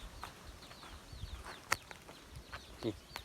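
Scattered chicken clucks and short calls sound faintly in the distance over quiet outdoor background, irregular and sparse.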